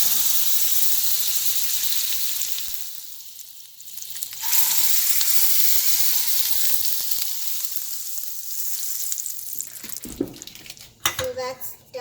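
Refrigerated butter melts and sizzles in a hot pan, a steady close hiss that dips quietly partway through, then resumes with some clattering and a voice near the end.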